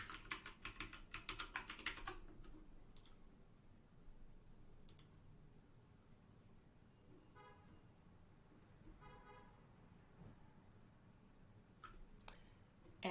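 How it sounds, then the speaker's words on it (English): A password is typed on a computer keyboard as a quick cluster of clicking keystrokes at the start, then a few scattered taps over a faint, steady background hum. "And now I'm going to type in my password."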